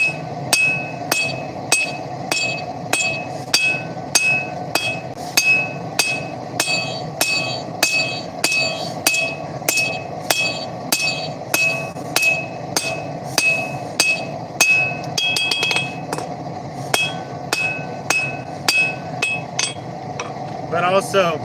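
Rhythmic ringing hammer blows on hot titanium being forged into tongs with a smaller hammer, struck steadily about twice a second, close and loud, with a brief pause and a few lighter taps near the end.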